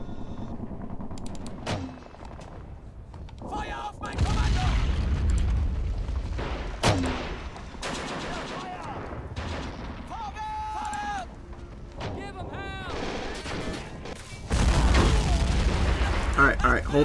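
Gunfire and booming mortar blasts during an Omaha Beach landing battle in the game Men of War: Assault Squad 2, with sharp shots and heavy thuds repeating amid the battle noise while people talk over it.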